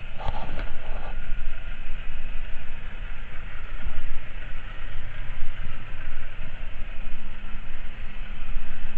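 A car engine with a custom exhaust idling nearby, a steady low rumble holding on throughout with a brief clatter at the start.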